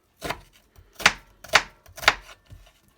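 A knife chops an onion on a cutting board, several crisp, evenly spaced strikes close by, about half a second apart, with no talking.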